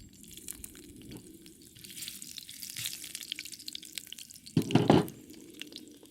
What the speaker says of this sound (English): Then I stir fry the ginger first.